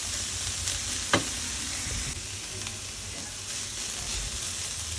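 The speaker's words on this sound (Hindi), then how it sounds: "साथ ही आप चम्मच चलाते रहें ताकि ये ऊपर नीचे हो जाए" Food fries in a pot for Kabuli pulao while a spoon keeps stirring it, making a constant hiss with one sharp scrape of the spoon against the pot early on.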